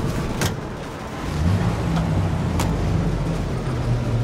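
Car engine in the game Mafia Definitive Edition: a steady low motor drone, close and constant, with a few faint clicks and knocks on top and no talking.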